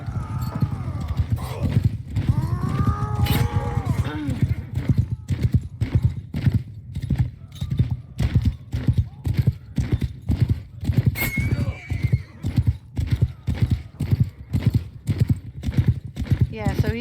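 Horses gallop in a video game with loud, rapid clip-clop hoofbeats. Repeated neighs and whinnies rise above the rhythmic pounding throughout.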